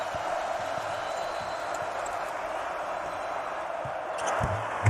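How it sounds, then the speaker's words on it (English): The crowd inside the arena at a Purdue Boilermakers versus Oregon Ducks basketball game keeps up a continuous roar that swells near the end, with faint ball bounces underneath. "Here comes this crowd, too"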